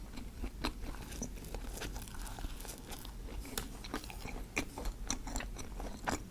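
Bread from Sungsimdang bakery in Daejeon being torn, bitten and chewed up close, with soft crunches and moist chewing in an uneven rhythm and light wrapper crinkles, no talking.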